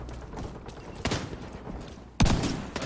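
Shotgun blasts in The Division 2, a couple of sharp, fairly loud reports spaced about a second apart, the last one the strongest, with faint background clutter between them.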